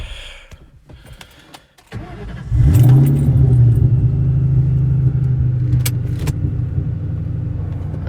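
A 2003 Ford SVT Cobra engine starts with a sharp rise into a loud, steady idle rumble, then holds a droning hum that slowly fades as it stalls out, with faint clicks and key jangles before it starts.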